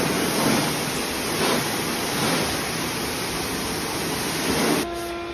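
Water from a hose or pressure washer rinsing a car, a steady loud broadband hiss that runs throughout in surging waves and cuts off near the end.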